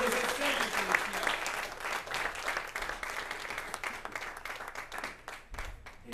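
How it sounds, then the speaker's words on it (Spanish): Applause in a church, a sustained wash of clapping from a congregation that swells and gradually thins out, with a voice briefly audible near the end. "Yo le diera un aplauso al Rey por eso."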